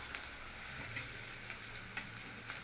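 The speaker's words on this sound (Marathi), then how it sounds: "कांदा भाजून घ्यायचा आहे." Onion gently sautés in a pan until soft, a faint, steady sizzle with small crackles and no talking.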